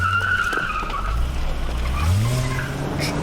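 Tires squeal as a car skids hard around a corner in a TV crime drama scene, a loud sustained screech with engine noise rising underneath over about three seconds.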